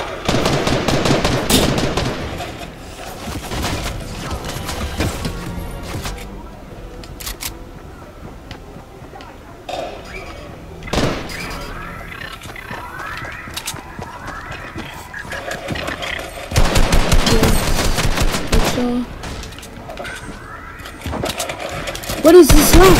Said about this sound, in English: Suppressed SMGs are back?